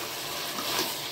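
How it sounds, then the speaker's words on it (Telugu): A glass of water tipped onto mutton in a pot while cooking biryani gives a steady, fairly loud gushing wash of liquid lasting about a second, with no voices over it. "ఒక గ్లాస్ నీళ్ళు వేసేసుకోవాలి"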